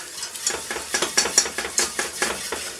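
Cheese sauce for a fish pie cooking in a pan, heard as a steady run of rhythmic scraping and stirring strokes against the pan with a faint bubbling sizzle underneath, close and alone with no talk.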